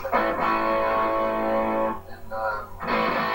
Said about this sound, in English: So I get a little bluesy distortion.